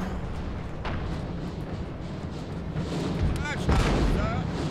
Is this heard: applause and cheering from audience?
no